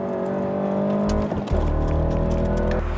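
A Volkswagen Golf GTI Performance Pack is driven hard on a race track, its engine note loud and steady, dropping briefly as the driver shifts and then pulling strongly again.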